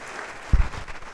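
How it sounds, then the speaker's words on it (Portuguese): A congregation in a church breaks into a short burst of applause during a sermon. The clapping swells briefly and loudly, then fades into a lighter, scattered patter. "uma salva de palmas"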